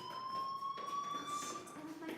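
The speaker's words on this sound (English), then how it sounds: "do you hear that fire alarm?" A fire alarm from the game Life Is Strange, episode 2, sounds as a steady electronic tone that rings continuously at moderate level over a faint background.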